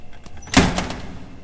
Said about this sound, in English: All right, shut the door